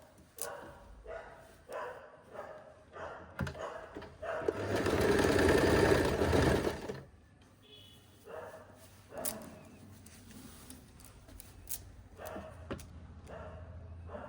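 Sewing machine stitching the lining of an umbrella frock: one sustained burst of rapid stitching runs about two seconds, framed by short starts, fabric handling and small clicks nearby.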